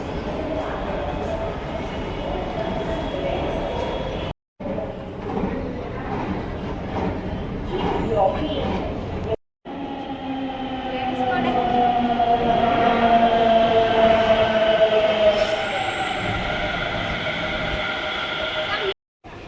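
A Delhi metro train moves through a station with a steady rumbling roar and rising whine, broken by brief cuts, loud and close, while voices talk over it.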